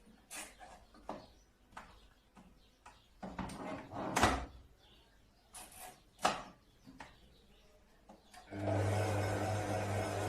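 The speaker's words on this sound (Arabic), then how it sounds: "على السرعه بقى الهاديه كده، ونشغل بقى العجان" A dough mixer kneads dough for Egyptian qaraqeesh at low speed. Scattered clunks and knocks come first, then the motor kicks in with a steady, fairly loud whirring hum through the final seconds.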